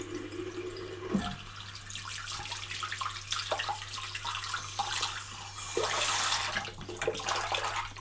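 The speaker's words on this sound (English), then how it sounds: "get some warm water, fill up your sink." Warm water running from a tap into a bathroom sink as it fills, a steady broadband rush that continues throughout, nearby and fairly quiet.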